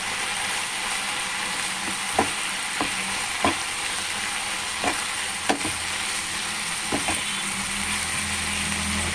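A bisi bele bath mixture in a pan is stirred over a steady background sizzle, with sharp spatula clicks against the pan at irregular intervals, close up and with no voices.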